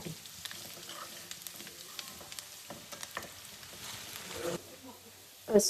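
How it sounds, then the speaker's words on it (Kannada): Chopped garlic shallow frying in hot oil in a pan, a soft steady crackle with scattered small pops and a louder clatter at the very end, close and fairly quiet. "ಚಾಪ್ ಮಾಡಿರುವಂಥ ಗಾರ್ಲಿಕ್ ಹಾಕೋಬೇಕು. ಸೊ ಸ್ವಲ್ಪ ಶಾಲೋ ಫ್ರೈ ಮಾಡ್ಕೊಂಡ್ರೆ ಸಾಕು."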